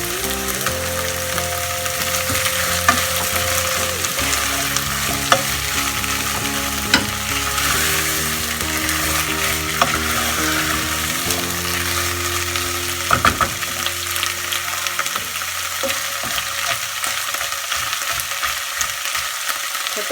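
Whole black peppercorns, cardamom pods, cinnamon bark and cloves fry in hot oil for a meatball curry, a steady dense sizzle with occasional stirring scrapes and clicks throughout, close and continuous with no talking.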